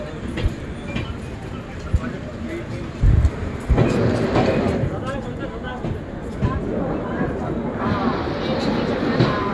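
An Indian Railways train with sleeper and AC coaches rolls along platform 1 at Delhi Safdarjung station, a loud steady rumble with clattering wheels and people talking over it.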